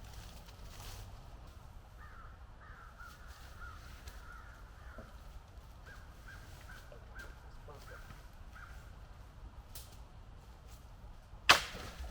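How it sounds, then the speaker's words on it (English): Crows cawing at a distance on a cold summer night at a hammock campsite, a run of short repeated caws spread through a quiet background, ending with a sharp nearby click. "Crows."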